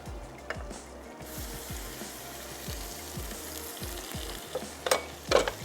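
Onions, green chillies and fresh coriander sizzle in hot oil in a pan for a chicken Afghani gravy, a steady crackling fry with a few clicks and knocks from stirring, louder pops near the end, no voices.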